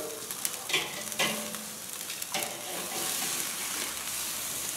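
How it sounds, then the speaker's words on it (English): A frozen strip steak sears in a hot pan, giving a soft continuous sizzle with a few light clinks and scrapes early on, fairly quiet and without speech. "it's got a wonderful sear on there"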